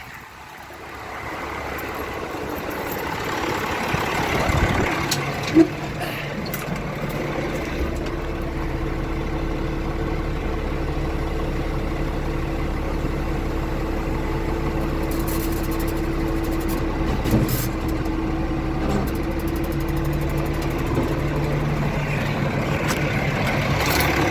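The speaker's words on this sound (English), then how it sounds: "I'm going to go in the tractor and set the tailgate down." A tractor engine idles steadily and fairly loud at close range while a New Holland baler tailgate is lowered, with a couple of faint clunks early on and no talking.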